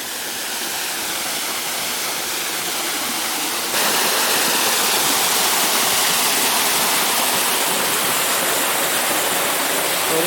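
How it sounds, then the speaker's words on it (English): Teresa Falls, a man-made waterfall at Paronella Park in the Queensland jungle, roars as a steady, loud wash of falling water that swells abruptly partway through and then holds, with no voices. "So this is Teresa Falls."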